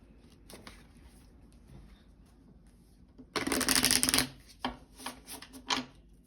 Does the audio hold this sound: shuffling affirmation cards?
yes